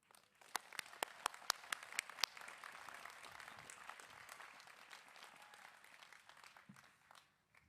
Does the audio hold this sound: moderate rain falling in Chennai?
no